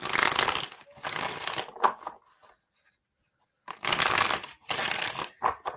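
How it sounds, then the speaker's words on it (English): A deck of cards is shuffled up close for a psychic reading, with two crisp riffling bursts separated by a brief silent pause. "2 more shuffles."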